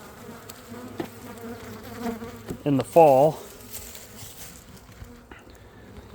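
Many honeybees buzz close by around a hive in a steady droning hum, with a louder pass near the middle and a person speaking briefly over it.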